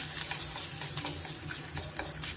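Fennel seeds and bay leaf sizzling in melted butter in a pan, a close, continuous crackling fry with small sputtering pops and no voices.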